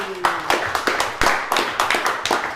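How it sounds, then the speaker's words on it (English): Scattered handclaps from a small group at a round-table meeting, a few distinct sharp claps spaced unevenly over a couple of seconds, moderately loud and close, with no voices over them. "Round of applause for Paul."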